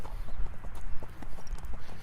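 Rhythmic hoofbeats of a horse moving in its gait during a gait-correction demonstration, a quick steady clip-clop of close, dull thuds.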